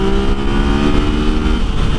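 Yamaha XSR900 motorcycle accelerating hard on the throttle, a loud steady engine drone with layered harmonics held close throughout, the pitch easing slightly near the end.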